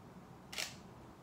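A single mirrorless camera shutter firing at a one-second exposure, a short crisp click in an otherwise quiet room.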